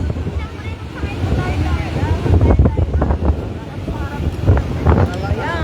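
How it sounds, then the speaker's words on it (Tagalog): Strong gusty wind on a beach at Lingayen, Pangasinan buffets the microphone in rough, rumbling bursts, with people talking underneath. "Grabe, lakas ng hangin talaga."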